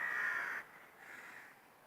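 At Fota Wildlife Park a crow gives one loud, harsh caw close by, followed by a fainter, shorter second call. No voices are heard.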